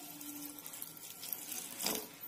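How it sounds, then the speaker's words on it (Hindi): Water poured from a small height onto flattened rice (poha) sitting in a sieve over a bowl, a short soft trickle and splash swelling briefly near the end, close and fairly quiet. "सबसे पहले हम पोहे में पानी ऐड करेंगे।"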